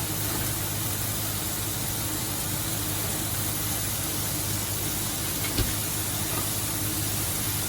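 Butter sizzling in a hot pan while vegetables are sauteed for a sweet and sour sauce, a steady loud broadband hiss that holds evenly throughout with one brief click near the end.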